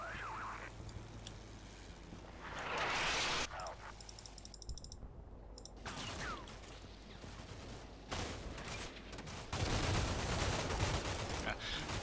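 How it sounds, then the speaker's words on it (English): Scattered rifle and machine-gun fire crackles from several buildings in the video game Combat Mission Shock Force 2, with irregular bursts and single shots at moderate distance and a louder flurry near the end. "Bit of an exchange of fire going on from kind of all these buildings here."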